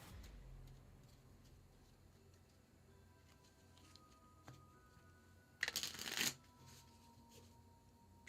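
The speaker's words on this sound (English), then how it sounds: "Shuffling these 6 times." A deck of French-suited playing cards is shuffled quietly nearby, a soft riffling texture with one louder burst of riffle near the end, with no talking.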